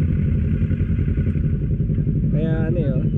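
A custom Kawasaki Vulcan 650 inline-two motorcycle idles loudly and close with a steady, throbbing exhaust rumble, and someone speaks over it near the end.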